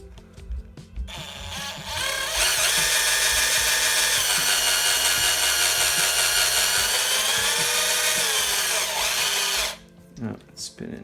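Power drill spinning the pivot ball of a Pro-Line PRO-MT 1/10 4x4 monster truck, a loud sustained high whine for about eight seconds with slight pitch shifts, preceded and followed by small clicks and handling noises.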